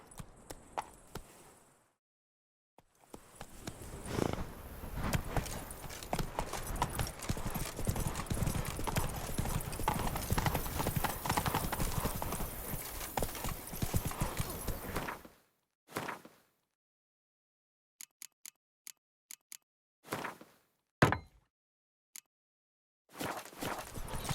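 Roach, the horse in The Witcher 3, gallops with a fast, steady clatter of hooves for over ten seconds. Scattered separate hoof clops follow between stretches of silence.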